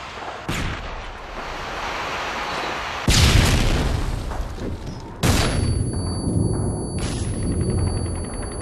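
Stun grenade blasts in a tactical shooter video game, two sharp loud booms a couple of seconds apart, each followed by a ringing high-pitched tone and rumbling decay, with an earlier fainter pop.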